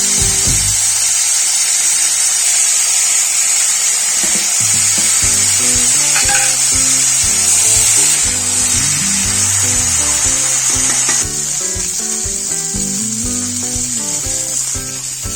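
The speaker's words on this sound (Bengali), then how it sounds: "এবার পেঁয়াজটা দিয়ে দেব" Onions sizzling and frying in a pan with potatoes, cauliflower, turmeric and salt, a loud continuous close hiss throughout with faint scraping of stirring and no speech.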